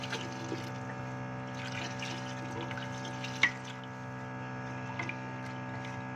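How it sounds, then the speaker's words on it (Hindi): Water pours steadily into a pot of mixed lentils being prepared for daal. The even splashing runs under a strong, constant electrical hum, with one small clink partway through. "इसमें हम पानी डालेंगे, इतना पानी डालेंगे ये दाल अच्छे से गल जाए"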